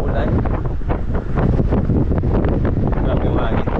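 Strong wind buffets the microphone during a mountain bike ride, a loud, steady roar with rumbling gusts that fill the whole clip.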